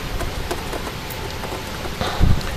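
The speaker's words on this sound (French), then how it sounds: "Donc accompagné de bonnes pluies, je pense que ça va pleuvoir une bonne partie de la soirée" Steady rain falls during storm Caetano in Clermont-Ferrand, a dense, loud hiss of drops on surfaces with a brief low rumble near the end.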